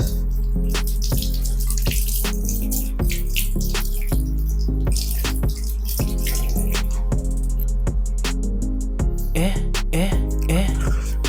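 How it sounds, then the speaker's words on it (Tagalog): Tap water runs steadily and loudly into a sink while an Indian mango is washed under it, with splashing and dripping shifting as the fruit is turned in the stream. "Hugasan natin tong Indian mango."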